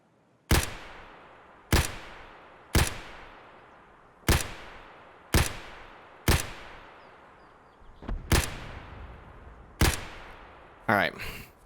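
Gunshots from a heavily silenced rifle in Escape From Tarkov, about nine sharp, evenly spaced reports roughly a second apart, each with a short decaying tail.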